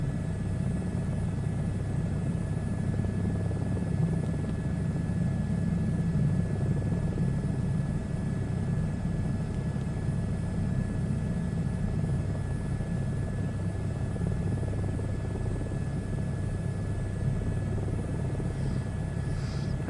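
Steady, continuous helicopter rotor and engine drone in a VR flight simulator game, holding an even level throughout with no talk over it.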